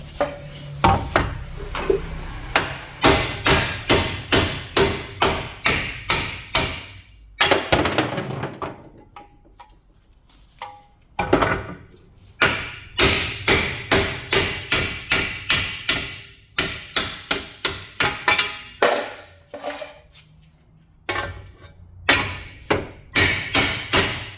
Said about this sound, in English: Let's see if I can smack the rest of these bushes out.